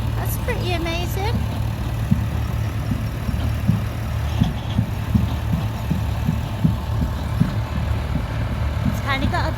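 A tractor drives a belt-powered wood-sawing machine with a big wheel, giving a steady low engine drone with faint rhythmic knocks, close and continuous, while a voice briefly speaks at the start and end.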